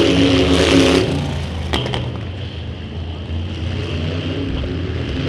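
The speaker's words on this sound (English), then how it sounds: "As all 3 cars pass the lap cars, still Sean Shea out front" Race cars at Bakersfield Speedway roar past in a loud burst of engine noise in the opening second, then fade into a steadier drone as the pack moves off.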